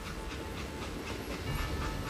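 In the Western shooter Call of Juarez: Gunslinger, a train moving away gives a steady rumbling clatter with faint hissing, a continuous moderate-level rolling noise and no talk.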